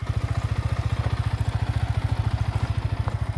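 A small motorbike being ridden by a first-time rider runs with a steady, low rhythmic engine putter throughout, close and continuous with no talking.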